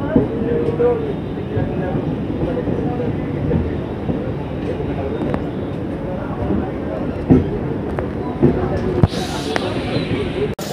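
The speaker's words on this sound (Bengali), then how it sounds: "আমাদের ট্রেন এসে পৌঁছালো আমাদের ডেস্টিনেশন মশাগ্রাম জংশনে।" A Howrah–Purulia MEMU local train rolls into Masagram Junction in light rain, its steady rumble and wheel clatter continuous throughout, with a few sharp clanks and a brief high squeal near the end.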